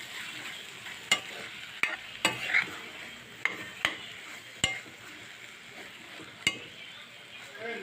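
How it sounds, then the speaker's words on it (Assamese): Fish roe and brinjal frying on a low flame with cumin powder, a steady soft sizzle broken by sharp clinks and scrapes of a spoon stirring against the pan. "গেছৰ জুইখিনি অকণমান কমাই কিনে 5 মিনিটমান সময় ভাজিব লাগিব এনেকৈ ইয়াত।"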